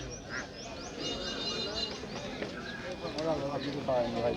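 Ducks quack repeatedly at a busy village poultry market in Natore, a rapid run of calls that stand out over crowd noise and nearby voices talking.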